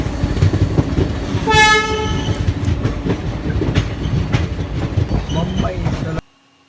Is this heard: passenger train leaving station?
yes